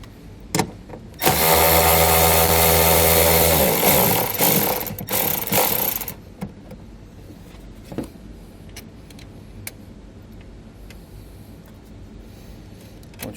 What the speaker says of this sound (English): We use an 8mm socket to remove it.